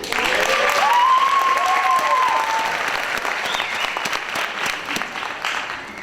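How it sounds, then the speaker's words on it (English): Sustained applause from a graduation ceremony crowd, steady clapping throughout with a brief tonal whistle-like sound near the start. "I'd like to give a round of applause to our speakers"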